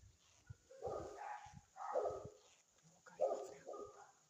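On a night street in Mazara del Vallo, Sicily, a white-beige dog gives a few short barks and whimpers in bursts, mixed with people talking nearby.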